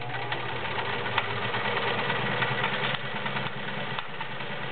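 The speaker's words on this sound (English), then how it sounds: "The noise you're hearing is my spool of thread." A Kenmore 1341 convertible flat bed/free arm sewing machine zigzag stitching, a continuous mechanical whir with a rattling, noisy thread spool running steadily throughout at moderate volume, no voices.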